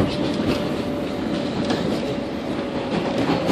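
A train at a busy station gives off a steady, dense rumble and rattle of rail noise throughout, close and continuous with no clear pauses.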